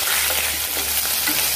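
Garlic and a small piece of ginger frying in hot oil in a pan, a dense continuous sizzle heard close and fairly loud, steady throughout with no voices.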